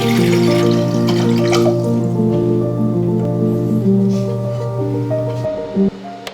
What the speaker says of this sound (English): I'm filling a medium pot with about 1 inch of water